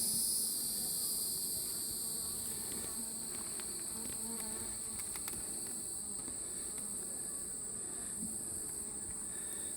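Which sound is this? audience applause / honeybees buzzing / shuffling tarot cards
honeybees buzzing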